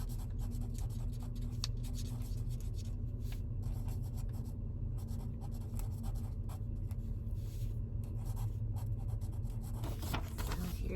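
A pen scratches steadily across paper as a short handwritten note is written, a close, continuous scribbling that runs for about ten seconds with no voices.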